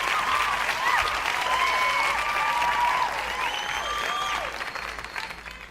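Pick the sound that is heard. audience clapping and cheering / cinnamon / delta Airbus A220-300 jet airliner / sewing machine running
audience clapping and cheering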